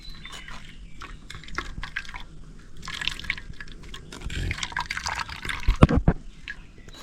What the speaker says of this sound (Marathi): गालणीन हे गाळायचा आहे रस हा बघा आणि चमच्या नसा दाबायचा